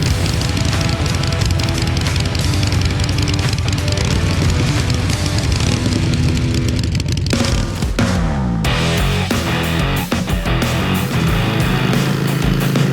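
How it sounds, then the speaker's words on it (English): A Harley-Davidson Iron 883 motorcycle cruises at highway speed, its engine droning loud and constant under heavy rushing wind, with a shift in tone partway through. "we're going to find out how the Iron 83 handles highway riding"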